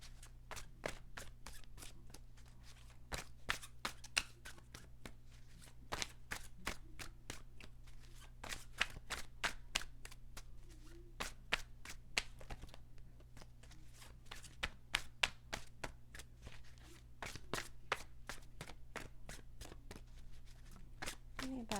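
Tarot cards are shuffled and drawn in quick, crisp flicks and riffles, a dense run of sharp snaps close to the microphone over a faint steady hum.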